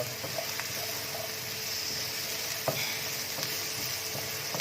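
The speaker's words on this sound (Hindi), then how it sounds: "इसके बाद 2 बारीक कटी हुई हरी मिर्च।" Finely chopped green chilies frying with onions in a pan for Chicken Manchurian, a soft even sizzle with a few spoon knocks and stirring clicks, no one talking.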